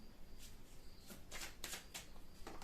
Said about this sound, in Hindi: निकालते हैं कार्ड्स यहाँ पर